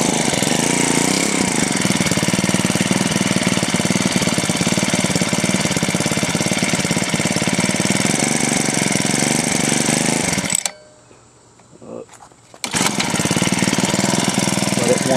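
A motorized side-by-side tandem bicycle's small engine, warmed up with the choke released, runs with a loud, dense, steady buzzing drone that cuts out for about two seconds near the end and then resumes at full strength.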